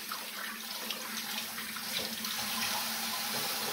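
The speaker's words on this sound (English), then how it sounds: "Let's fill up the water now." Tap water running steadily into a pan full of rose hips while making rose hip jam, a continuous close splashing hiss with no talk.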